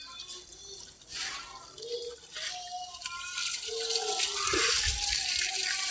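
Water runs and splashes steadily with a hissing wash that grows louder as a garden is watered, while people, including a child, talk over it.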